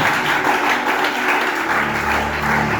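A church congregation applauds in a dense, loud, continuous wash of clapping that holds steady throughout, with a low murmur of voices beneath it.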